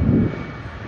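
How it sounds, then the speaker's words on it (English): Virgin Australia Boeing 737 MAX jet taxiing past at Sydney Airport, a steady low engine rumble that swells briefly at the start, then holds on as a broadband roar with no voices. "There's a Virgin Australia 737 MAX just taxiing past."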